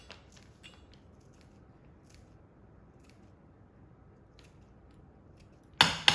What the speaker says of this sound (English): So I'm going to just cut some of the cilantro here.